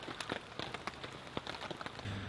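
Light rain patters at a campsite just after a thunderstorm, a soft steady wash broken by scattered sharper drops close by, with no voices.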